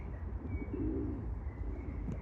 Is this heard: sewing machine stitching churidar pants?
no